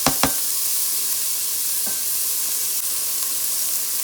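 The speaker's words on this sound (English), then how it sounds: "I'm going to fry up the onion for 2 minutes before I add the next ingredient." Red and white onions frying in a pot for a chickpea chana dish, giving a constant close hissing sizzle after two sharp clacks at the start and one more partway through.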